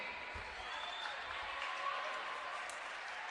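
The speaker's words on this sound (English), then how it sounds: "Ladies and gentlemen, a round of applause for the softball team" A crowd at a college sports event applauds the softball team, with steady mid-distance clapping and a few cheers echoing through a gym, a voice faintly audible beneath.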